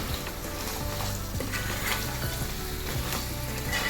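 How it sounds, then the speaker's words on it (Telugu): Chicken pieces coated in onion masala for Andhra-style gongura curry sizzle steadily in a pan, with repeated scraping stirs and faint clinks of the spoon, close by and without talk. "స్లోగా మొత్తం చికెన్ ఈ మసాలా అంతా కూడా చికెన్ ముక్కకు పట్టేంత వరకు కలిపేసుకుందాం."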